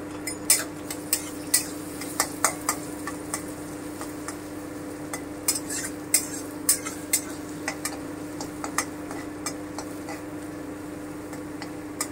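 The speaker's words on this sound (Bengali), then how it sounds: "আমি এটা হালকা করে ভেজে নিচ্ছি।" Chopped onions lightly frying in a pan for chilli paneer, with a steady low sizzle and repeated sharp clinks of a utensil scraping and stirring against the pan, close and with no talk.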